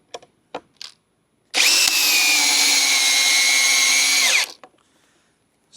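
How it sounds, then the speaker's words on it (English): A Metabo HPT DV36DC drill in speed 2 drill mode drives a 10-inch GRK screw home with one loud, sustained whine lasting about three seconds. Brief clicks and handling knocks come before and after it. "Speed 2 drill mode sent that 10-inch GRK home and actually buried it too"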